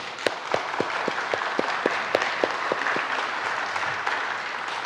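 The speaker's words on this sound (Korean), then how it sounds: "이런 아이들을 가르치고 있는 우리 선생님들에게 한번 격려의 박수를 해주시기 바랍니다." A church congregation applauds teachers during an afternoon worship service, a moderate steady clapping with several sharp individual claps standing out near the front, continuing evenly throughout.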